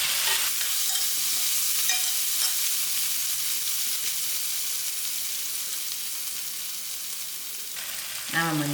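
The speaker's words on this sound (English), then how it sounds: "And then my dry thyme and my ginger garlic. Allow this to fry." Dry thyme with ginger and garlic fries in a pan, giving a close, even, continuous sizzling hiss that softens slightly midway, with a short sharper sound at the very end.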